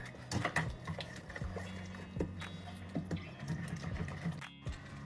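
A cooled sauce mixture is beaten quickly by hand, giving rapid, uneven scraping taps over a steady low hum, with no one talking.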